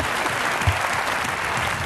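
An audience applauds a comedian at a Lakis Lazopoulos comedy show in Larissa: dense, steady clapping fills the whole stretch with no voices on top.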